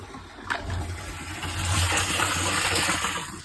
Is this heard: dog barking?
no